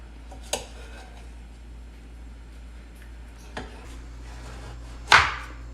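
A knife chops tomatoes on a board in a home kitchen, three separate sharp knocks spaced a few seconds apart, the last one loudest, over a quiet background hum with no talking.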